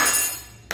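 An egg cracked into a small dish while preparing corn rolls: a single short, sharp crack near the end, clear and close, after a stretch of quiet kitchen background.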